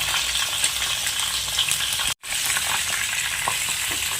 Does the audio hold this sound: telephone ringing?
no